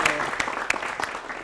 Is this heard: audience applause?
yes